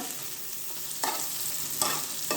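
Bitter gourd frying in a pan, a soft steady sizzle broken by a few louder scraping stirs of a spatula, quiet and close with no talk.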